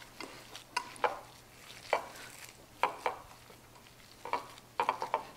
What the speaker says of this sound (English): And I'm going to mix well.